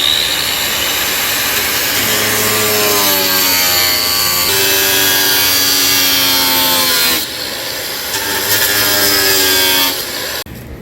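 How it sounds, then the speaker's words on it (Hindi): An angle grinder cuts into the base for a roof-mounted exhaust fan on a store or warehouse roof, a loud continuous whine with shifting pitch sweeps that dips briefly before resuming, close and steady throughout. "अब ये ग्राइंडर की मदद से इसके ऊपर कटिंग होने लगी है।"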